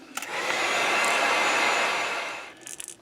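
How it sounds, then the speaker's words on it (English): Heat gun blowing a steady, loud rushing whoosh over freshly painted black fishing lure, starting abruptly and running continuously for a couple of seconds before cutting off, with faint handling clatter afterward. "dry this really good, get the heat gun"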